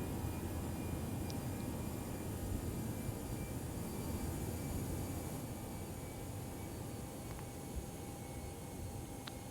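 Steady broadband engine and airflow drone from a Toliss A319 airliner descending in X-Plane 11 flight simulation, continuous and even with a faint high whine, no talking.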